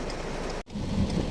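Heavy rain pours in a dense, close hiss on a road trip from Batangas to Mandaluyong, briefly cut by a sudden gap of silence before the downpour resumes.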